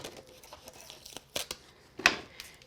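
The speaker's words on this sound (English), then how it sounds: "Trim that down." Card paper being trimmed by hand for a greeting card, giving short crisp cutting and rustling sounds, a couple of sharper snips near the end, fairly quiet and close.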